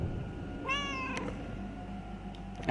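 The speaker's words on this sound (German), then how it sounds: "Es ist sehr lustig, wie mein Kater hier reagiert." A male pet cat gives a single clear, close meow lasting about half a second, followed by faint background sounds.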